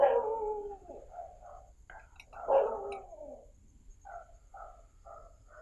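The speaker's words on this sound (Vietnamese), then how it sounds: "Hiện tại chó sủa rất nhiều mọi người" Dogs bark and howl at night during a ghost-calling ritual with incense and wind chimes, long wavering howls followed by a series of shorter, fainter yips and barks at moderate distance.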